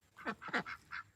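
Several harsh, nasal duck quacks in quick succession, close by and fairly loud, with short gaps between calls.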